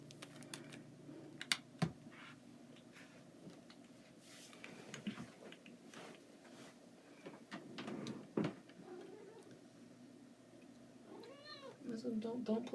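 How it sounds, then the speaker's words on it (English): A pet cat meows a few times in a room, the short rising calls faint against quiet background noise, with light tapping and a person speaking now and then. "Sorry, that was my cat."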